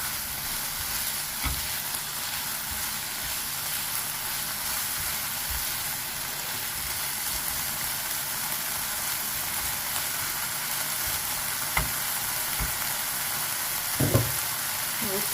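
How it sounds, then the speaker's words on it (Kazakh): Bolognese pizza filling fries in a pan with a steady low sizzle, broken by occasional soft stirring clinks and a brief scrape near the end, no voices. "Осылай қуырып алған өзі жарайды."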